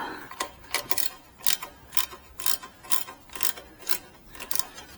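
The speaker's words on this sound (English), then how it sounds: "now we're going to nip up this lovely bit of kit and nip up the bolt." Ratcheting clicks from a wrench nipping up an exhaust bolt while fitting a Delkevic exhaust system and link pipes to a Yamaha XT660R motorcycle, coming in about a dozen evenly spaced, close, crisp bursts with no talk.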